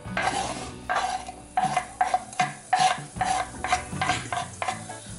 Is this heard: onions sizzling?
yes